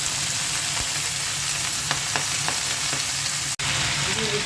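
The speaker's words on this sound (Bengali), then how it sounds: "এখন পুঁই শাকটা দিয়ে দিচ্ছি" Malabar spinach tossed into a hot pan with garlic, green chili and lightly fried onion, sizzling steadily and close with scattered stirring clicks throughout.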